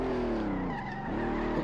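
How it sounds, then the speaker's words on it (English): Corvette C1 sliding under braking in the SLRR racing game at Brands Hatch, tires squealing in a sustained wavering howl over the steady engine drone. "Every time under braking, it just wants to start sliding and going all over the place"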